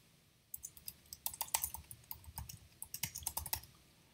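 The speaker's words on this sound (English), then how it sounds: "So I will type Acanthurus olivaceus." A computer keyboard clatters with quick, even keystrokes in two short bursts, near but soft, against a faint room hum.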